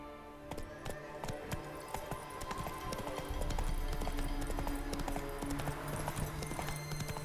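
Roach, a horse in The Witcher 3, gallops steadily with rapid, rhythmic hoofbeats that persist throughout, while a low drone joins midway and continues beneath the steps.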